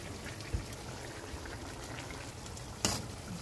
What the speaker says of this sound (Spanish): Y ahora le voy a agregar un poquito del sofrito que yo hago.